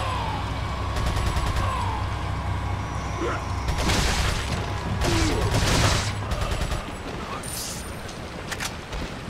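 Bursts of rapid gunfire from the video game Resident Evil 4 during a boss fight crack out in several volleys, loud and close, with scattered single shots between them over a low rumbling background.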